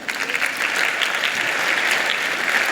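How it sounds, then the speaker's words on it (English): An awards-ceremony audience breaks into loud, sustained applause, many hands clapping in a thick, even roar that swells slightly after the first half second and holds steady. "another fantastic round of applause if you can, please."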